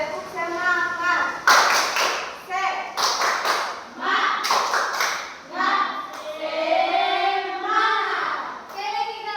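A children's class claps in unison in short rhythmic bursts, close and fairly loud, while a child and a teacher speak and chant between and over the claps.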